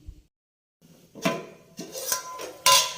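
A clay pot of aloo methi sabzi being covered with its lid, giving a few close, sharp clinks and clattering knocks of ceramic contact spread over a couple of seconds, with no talking.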